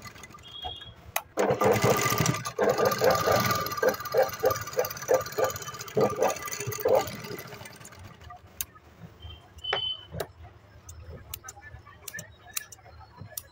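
A sewing machine stitches the fitting line on a blouse in quick bursts of rapid needle clatter, then stops, followed by scattered clicks and light handling noises, close and clear.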